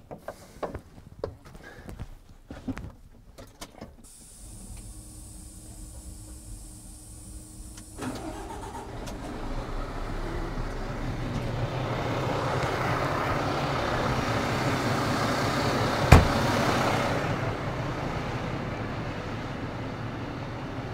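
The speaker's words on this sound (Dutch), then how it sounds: "De MAN-motor hebben we dus net even gestart." A Fendt 942 Vario Gen 6 tractor with a MAN engine: a few clicks and knocks, then the engine starts and settles into a quiet, steady idle that builds gradually, with one sharp knock partway through.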